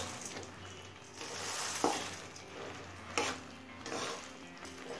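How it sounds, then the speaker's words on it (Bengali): Puffed rice stirred into hot one-thread sugar syrup, soft crackling sticky mixing with intermittent scrapes and light clinks of a utensil against the pan, quiet and close. "অল্প অল্প করে খইটা দিতে থাকবো আর মেশাতে থাকবো।"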